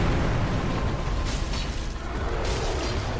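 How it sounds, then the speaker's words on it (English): A boss explosion in the video game Dark Souls 3, a loud sustained rumbling burst with bright crackling flares that rises twice, filling the whole stretch with no voice over it. "As long as the explosion doesn't hit me"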